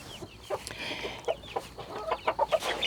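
Rhode Island Red and Americana chickens cluck in a quiet coop setting, with soft, scattered clucks coming in short bursts that grow busier toward the end.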